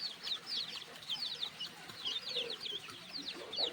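Desi country chicken chicks at a low-cost poultry farm peep in a dense, overlapping chorus of high, rapid chirps that runs without a break, close by over faint background noise.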